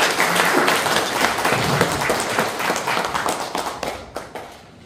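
Audience applause welcoming a professor at a Korean lecture event, a dense, steady wash of clapping that holds for several seconds, then thins and tapers off near the end.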